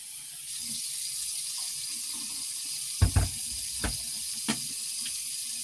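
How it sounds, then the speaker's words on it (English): Water runs from a tap into a bucket as a steady, fairly loud hiss, with a few hollow knocks and clunks from the bucket partway through. "I need to fill the bucket thing with water."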